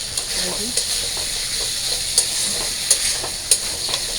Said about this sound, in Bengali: আমি অনেক সুন্দরভাবে মশলাগুলো দিয়ে সবজি কষায় নিয়েছি